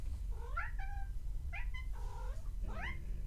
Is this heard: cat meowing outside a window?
yes